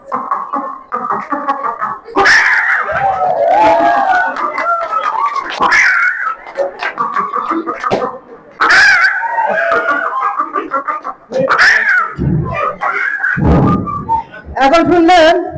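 A person imitates a hen clucking after laying an egg, a loud, continuous run of squawking cackles with brief pauses, voiced alone and close by.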